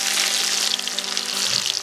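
Onions dropped into boiling coconut oil for an Andhra fish mango curry hiss and sizzle steadily and loudly, a dense frying crackle close by with no talk.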